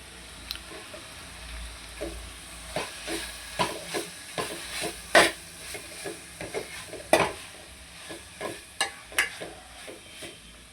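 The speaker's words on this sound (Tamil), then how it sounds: "இப்போ இதில் நாம் அலசி வச்சிருக்கிற இந்த கீரையை இதில் போடலாங்க." Washed greens go into a pan with tamarind and seasonings and are stirred: repeated close scraping strokes of a spoon over a steady frying sizzle, with no talk.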